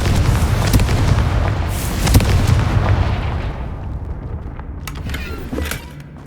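The Confringo blasting spell explodes in Hogwarts Legacy as a loud, booming blast with a rumbling low-end roar that rolls on for several seconds before fading, with no talk over it.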